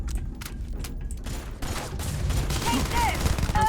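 Turrets fire in the video game Starfield, producing rapid, dense bursts of gunfire that build toward the end, layered with a faint electronic whine and some background game noise.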